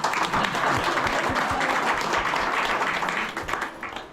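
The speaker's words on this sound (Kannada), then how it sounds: "ಚಪ್ಪಾಳೆ ಯಾರು ಹೊಡ್ಯಾರ?" An audience claps steadily at a school reunion and teachers' tribute event in Belagavi, Karnataka, a dense, sustained applause that fades slightly toward the end.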